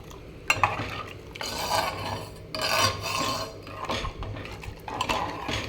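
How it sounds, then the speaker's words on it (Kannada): Jowar porridge being stirred in a cooking pot: close, repeated rasping strokes of a spoon scraping the pot in an uneven rhythm, fairly loud, with no talk. "ತಿರುಗಿಸ್ತೇನೆ."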